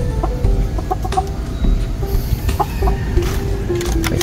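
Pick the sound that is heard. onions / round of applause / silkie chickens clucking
silkie chickens clucking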